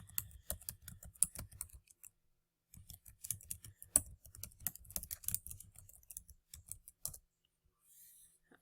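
Quiet bursts of computer keyboard typing, irregular rapid clicks in two runs separated by a short pause, close but soft, with no talking.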